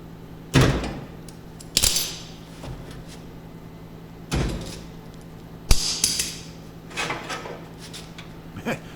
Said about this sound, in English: Then I can just unclip the vice grips real quick and slide the bumper off.